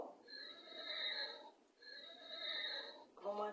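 A horse neighs twice on a farm, each whinny long, bright and quavering. The two calls come close together, followed by a short, different cry at the end.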